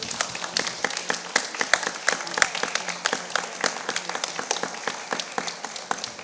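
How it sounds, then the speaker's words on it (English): Applause for Lorenzo Senni at an arts and culture event in Palazzo Diedo: a modest audience claps steadily, individual hand claps audible and close, with no talk over it. "Big round of applause for Lorenzo Senni."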